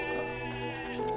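Sheep and goats bleat continuously near a well, a dense layered chorus of wavering cries, fairly close and steady throughout.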